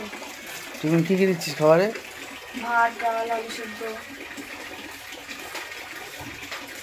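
A household tap runs steadily in a soft, constant splash beneath people speaking over it.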